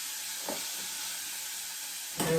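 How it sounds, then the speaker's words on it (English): Onions sizzling in a pan on the front burner of a stovetop, a steady hiss of frying that runs without a break across the clip, with a brief louder clatter near the end. "I'm going to cook these onions up"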